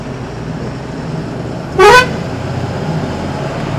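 A vehicle horn gives one short, loud toot amid a traffic jam of trucks on a road near Lucknow, over a steady low engine rumble.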